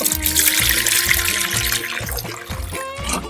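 Water leaks from a budget drag car radiator, a close, uneven trickling and dribbling with a rhythmic low thumping of the engine beneath and scattered splashy spurts, with no talk.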